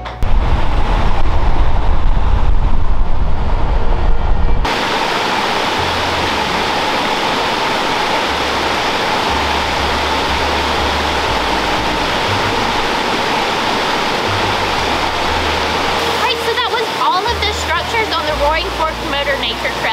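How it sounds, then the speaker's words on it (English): A waterfall in Gatlinburg, swollen after rain, pours with a steady, loud, broad roar; a louder rumbling burst at the start gives way to a constant rushing wash that continues for the whole stretch. "This waterfall is beautiful. It just got done raining, so this is the most water that we've seen"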